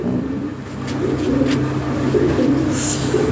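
Fancy pigeons coo close by and fairly loud, a low, throaty burbling that rolls on continuously through the short stretch, with no voices.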